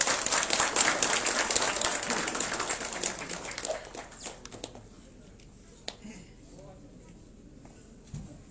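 Applause from an audience welcoming a guest speaker at a 125th birth anniversary celebration of Netaji Subhash, fairly loud at first and then thinning out to scattered claps and quiet by the middle.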